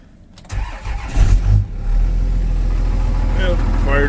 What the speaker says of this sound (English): Let's do a cold start here.